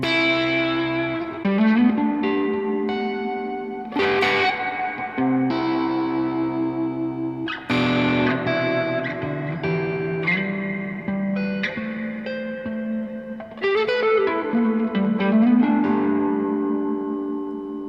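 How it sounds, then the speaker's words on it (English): Electric guitar notes and chords ring out through a reverb effect pedal with a lush, long reverb tail, each phrase swelling and lingering before the next, with no talking. "I love that reverb."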